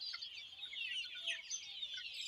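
Chickens clucking close by, a dense chatter of high, busy calls running throughout at a moderate level with no one talking.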